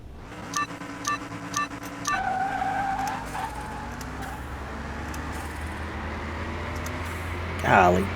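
A fast car in Car Mechanic 2021 revs and races, its engine droning steadily while tires squeal in a loud burst near the end, preceded by a few short electronic beeps and with no talk over it.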